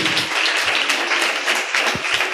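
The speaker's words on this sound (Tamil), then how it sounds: "நம்ம தேவாதி தேவனுக்கு கைத்தட்டு, நல்ல 2 கையை தட்டு" A church congregation claps both hands together in a dense, sustained round of applause, loud and close, with irregular sharp claps standing out from the crowd noise and no speech over it.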